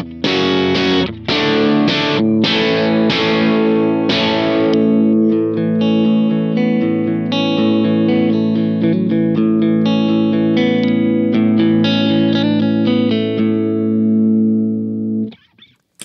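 Electric guitar through an amp set at the edge of breakup with no pedals, strummed chords then picked arpeggiated notes, full-bodied and slightly gritty, ringing steadily before cutting off.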